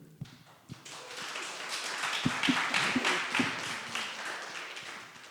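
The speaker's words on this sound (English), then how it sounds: "Me trying to clap." A person claps hands during a live online discussion, producing a few uneven, muffled thumps and taps, close and fairly quiet, over a soft wash of background noise.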